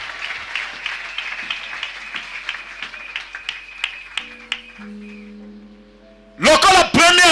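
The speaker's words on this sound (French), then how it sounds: "Acclame bien fort." A church congregation at a Sunday service claps, a scattered, moderately close patter of hands that gradually thins out, before a voice speaks loudly at the end.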